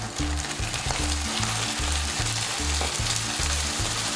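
Homemade tomato sauce frying and sizzling hard in a pan over high heat, a dense continuous crackle heard up close, with a low repeating pulse running underneath.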